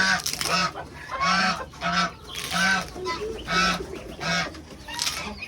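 Repeated honking quacks from several ducks, loud and close, arriving in steady bursts about every half second with a faint voice in the background.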